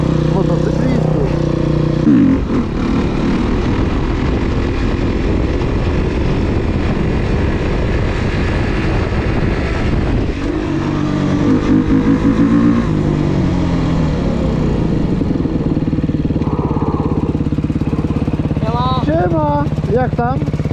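Motorcycle engines, including a Gilera 50cc, idle and rev nearby, rising and falling in pitch, with people talking over the noise throughout.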